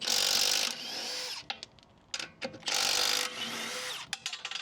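A Milwaukee M12 stubby 3/8-inch impact wrench (2562-20) hammers on car lug nuts in two loud, sustained bursts, each ending with clicks and rattles as the nut is worked, with a short pause between the runs.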